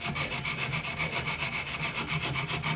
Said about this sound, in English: I'm just using a wooden dowel with some sandpaper on it to clean up these edges.